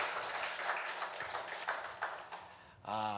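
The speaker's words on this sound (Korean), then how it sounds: "우리 하나님께 영광의 박수 올려드리겠습니다" A congregation claps together during a Korean Sunday worship service in a church, a dense, steady patter of applause lasting nearly three seconds before a sustained musical tone takes over.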